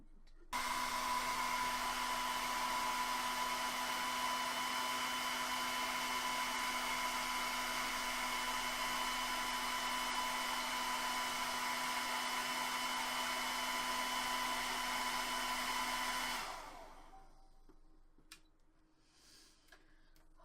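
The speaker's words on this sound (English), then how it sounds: "Apparently my hairdryer uses up too much electric for the surge protector." A hair dryer blows steadily with a constant whine and low hum, running loudly for about sixteen seconds before cutting off and winding down.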